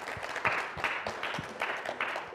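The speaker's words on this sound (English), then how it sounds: "Let's give a round of applause" Audience at a masterclass clapping steadily, with a moderate, even patter of hands that swells in soft pulses over a couple of seconds, fairly close and without voices on top.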